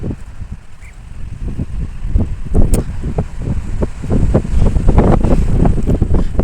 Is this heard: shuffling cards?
no